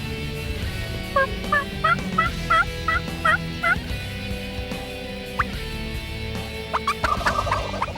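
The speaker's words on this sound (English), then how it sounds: "Oh, the gobble there." Wild turkeys gobble in a string of quick calls that repeat through the first few seconds, then come back in a shorter burst near the end, heard clearly over steady outdoor background noise.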